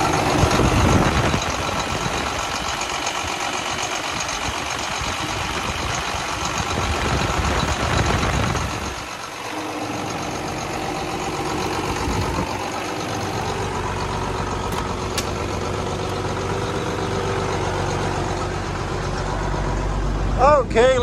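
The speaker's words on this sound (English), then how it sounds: "But I'm going to start the tractor and see what happens." A John Deere 4840 tractor engine idles with a steady low rumble and faint knocking throughout, while someone talks over it, and a brief louder burst comes near the end.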